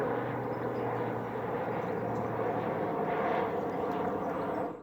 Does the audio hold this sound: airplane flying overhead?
yes